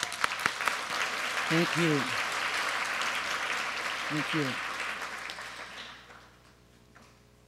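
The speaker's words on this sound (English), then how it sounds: "so I want to give you a big applause." Sustained applause from a large audience of several hundred at an education awards ceremony, a broad roar of clapping that fades out near the end, while a voice speaks briefly over it twice.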